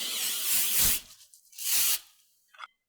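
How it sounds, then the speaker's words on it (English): Nonstick cooking spray is misted lightly onto a sheet pan in two close, short hissing bursts followed by a tiny final spritz. "we're going to spray some nonstick cooking spray on a sheet pan, just lightly"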